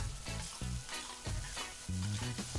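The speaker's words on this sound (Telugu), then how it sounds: "కొంచెం సాల్ట్ కూడా వేసుకుని ఒక 2 నిమిషాల పాటు ఫ్రై చేసుకోవాలి" Grated cabbage frying in a pan with tomatoes, chillies and ginger, giving a steady close sizzle with repeated stirring scrapes and thumps, no voices.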